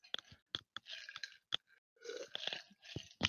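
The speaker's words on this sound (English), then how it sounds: "Excuse the slurping noises." Sips of bubbly sparkling water come as short wet slurping and crunchy mouth clicks, close and fairly loud, spaced irregularly with brief pauses.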